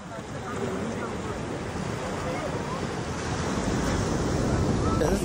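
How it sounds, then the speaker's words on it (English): Ocean waves at Broken Beach in Bali make a steady roar of surf that swells slightly toward the end, mixed with wind buffeting the microphone. "This is the broken beach, which is the most beautiful I have witnessed in real life."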